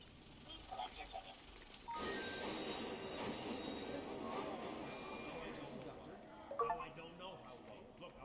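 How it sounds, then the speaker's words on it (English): Train rolling along in Halo 3: ODST, a steady broadband rumble of wagons and track that swells in and holds loud, with a sharper clatter near the end and talk layered over it. "Virgil, you can't stop the train."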